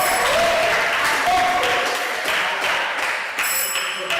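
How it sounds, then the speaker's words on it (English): A studio audience at a televised inter-hall Bible quiz grand finale applauds, loud sustained clapping that fills the room evenly for several seconds, with a few faint tonal pings over it. "Studio audience, let's give them a round of applause."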